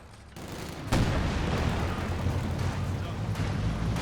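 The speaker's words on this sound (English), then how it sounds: "First barrage on my Wurfer." A rocket artillery barrage slams onto a Wurfer in Company of Heroes 2, a 1v1 match, bursting in with a loud boom and a dense, rumbling roar of explosions that holds steady to the end, under a commentator's voice.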